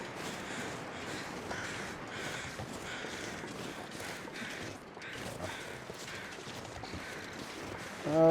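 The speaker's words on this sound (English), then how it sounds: "Birds just flying over." Crows caw repeatedly overhead in the wilderness survival game The Long Dark, several calls at moderate distance over a steady, windy background hiss.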